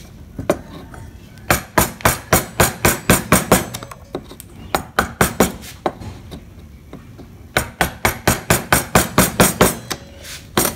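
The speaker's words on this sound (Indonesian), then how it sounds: "kemudian yang ini dirapikan menggunakan pahat kol" A carving chisel tapped with a mallet while shaping and tidying a wooden carving: steady runs of sharp, close knocks in quick rhythmic bursts, with brief pauses between series.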